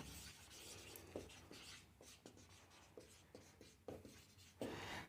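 Pen strokes scratch on paper as an equation of motion is written out for a physics lesson: soft, close, irregular scribbling with small taps between strokes.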